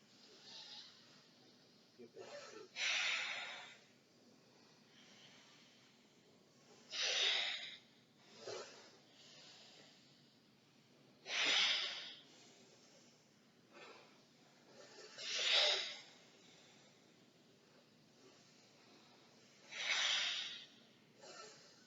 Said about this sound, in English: Benefits of Anulom Vilom, alternate breathing